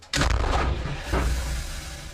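A single heavy M109 Paladin howitzer fires with a sharp, loud blast, followed by a rolling echo that fades slowly.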